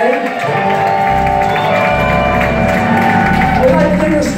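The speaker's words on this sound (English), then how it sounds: "Come give these guys a big round of applause" A concert audience applauds and cheers for the sound booth crew, loud and close, with whoops over steady clapping and music playing underneath.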